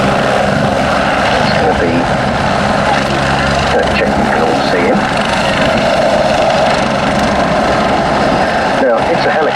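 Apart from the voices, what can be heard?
Belgian Air Force AW109 helicopter taxiing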